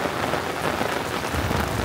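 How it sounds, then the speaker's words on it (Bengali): Steady rain drums on a rooftop, a dense, even patter close by with no voices, continuous throughout. "বৃষ্টিতে প্রায় ভিজাই গেছি, নিচে নামি, নাহলে আবার এই বৃষ্টির থেকেও ঠান্ডা লাগতে পারে।"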